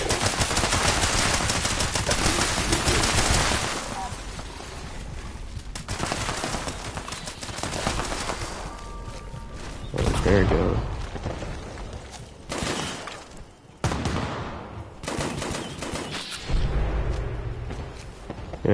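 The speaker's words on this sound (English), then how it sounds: "The gun doesn't have that much recoil anymore." Rapid automatic gunfire in Fallout 76 from a modified gun with reduced recoil, loud sustained bursts broken by short pauses, then further volleys, close and alone without talk.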